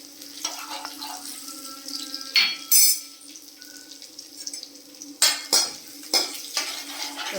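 A spoon stirs a tempering of curry leaves and a pinch of asafoetida in a pan, with light sizzling under repeated close metallic scrapes and clinks.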